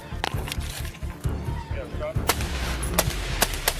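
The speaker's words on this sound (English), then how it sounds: "Two suspects down, one still firing." Gunshots crack repeatedly during a police shootout captured on a dashcam, sharp reports scattered irregularly over a rumbling background with voices shouting nearby.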